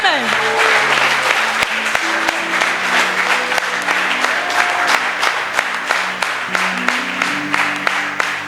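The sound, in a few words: congregation applauding in church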